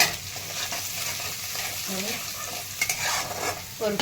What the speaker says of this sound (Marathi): आता तेलामध्ये हे दोडके टाकून घेतलेले आहेत भरलेले थोडंसं परतून घ्यायचे